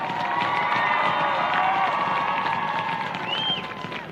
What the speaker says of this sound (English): How about a nice round of applause for the 2025 8-man runners-up, the Rockport Blue Jays